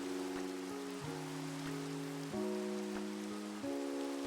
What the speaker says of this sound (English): I wish there were a way to turn off the rain.